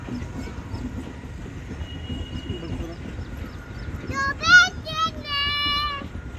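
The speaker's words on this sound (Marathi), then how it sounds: "किती मस्त ट्रेन आहे" A train passing near a railway station in the morning, a steady rumbling roll with wheel noise, then bright horn-like tonal blasts near the end, heard under ongoing voices.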